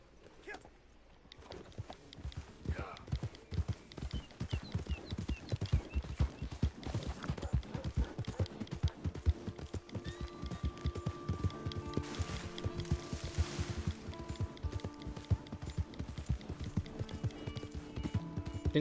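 Horse hooves clip-clop in Red Dead Redemption 2, a steady, close, rhythmic trot that continues throughout under light game ambience and soft music.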